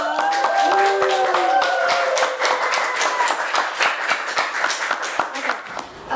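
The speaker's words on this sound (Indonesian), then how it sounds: "Tepuk tangan dulu dong." Audience clapping at a talk show event for Gen Z guests, brisk applause from a modest crowd that swells and then thins out, with a voice briefly speaking over the start.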